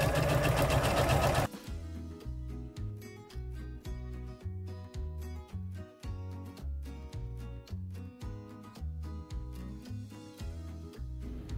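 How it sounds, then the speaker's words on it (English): A sewing machine stitches a straight row on a zippered pocket, giving a steady rapid mechanical whir with a rhythmic pulsing chug, close and clear, after a brief louder burst at the start. "I'm just going to do a straight row of stitching to secure this in place"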